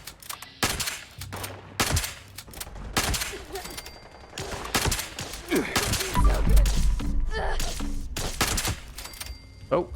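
Video-game gunfire from Fallout 76 Wastelanders: repeated sharp shots in quick bursts and volleys with heavy thuds, loud and close, a fusillade running through the whole stretch with brief gaps.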